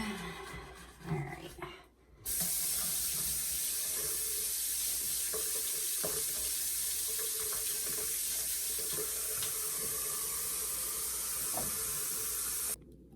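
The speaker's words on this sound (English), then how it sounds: "We'll run some water" A bathroom sink tap runs with a steady, hissing stream of water for about ten seconds, close and even, before shutting off.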